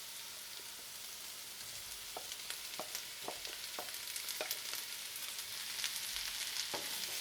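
Chicken stir-fried with softened capsicum and onion for fajitas sizzles steadily in the pan, with scattered sharp clicks of the spatula growing busier over several seconds and no talking.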